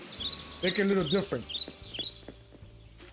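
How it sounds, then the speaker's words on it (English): Bright, short bird chirps and tweets repeat from the forested island in the Animal Crossing video game, layered under a person speaking close by. "You hear the birds?"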